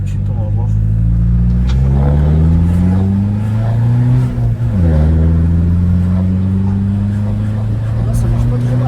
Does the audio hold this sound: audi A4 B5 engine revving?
yes